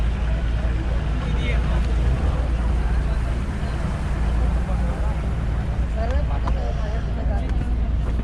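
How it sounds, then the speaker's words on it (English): A boat engine drones steadily on the water on a trip to the Elephanta Caves, a loud continuous rumble with wind buffeting the microphone throughout. "Hey, the boat is finally off."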